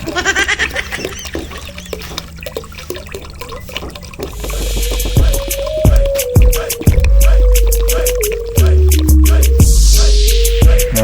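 Liquid wall primer for waterproofing is poured into a container, a steady splashing, gurgling stream that starts partway through and stays loud and close, with drips and small clunks before it.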